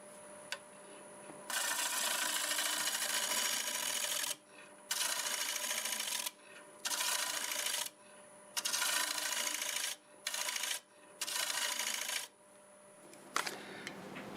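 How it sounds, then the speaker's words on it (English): A tool shear scraping black walnut on a wood lathe gives a harsh, close scraping hiss in repeated passes of one to three seconds, with short gaps where the spinning lathe hums alone. "I think I'll see if I can do a little shear scraping before I cut the rest of this out."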